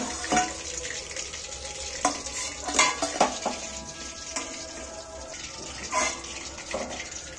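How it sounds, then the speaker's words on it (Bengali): Food frying in a pan over gentle heat, a steady hiss with scattered clinks and scrapes from stirring and utensils, close and moderately loud throughout with no talking. "ভাজার সময় একটু সময় দিয়ে ভাজতে হবে।"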